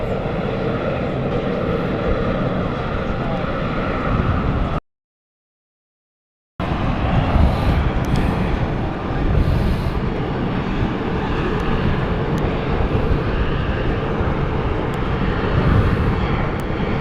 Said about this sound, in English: Austrian aircraft.